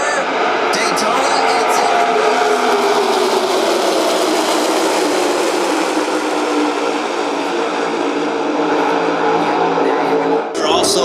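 NASCAR stock cars, including two Toyotas, race past at Daytona during the Coke Zero Sugar 400, a loud, continuous roar of engines from the spectator stands with crowd noise underneath.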